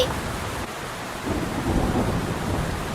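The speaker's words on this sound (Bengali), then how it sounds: "খুব জোরে ঝড় বৃষ্টি হচ্ছে" In a cartoon, a heavy thunderstorm brings a steady roar of rain with deep, rolling thunder swelling underneath, loud and continuous throughout.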